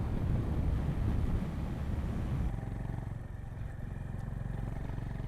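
A 2025 Honda GB350S, a small-displacement motorcycle, rides along a short off-road stretch, its low engine drone steady beneath heavy wind buffeting that eases midway.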